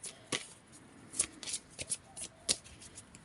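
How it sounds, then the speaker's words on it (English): Cards riffling and slapping in short bursts, several quick shuffles close up with crisp, papery snaps. "So I'm going to divide this up into 3, and shuffle this one"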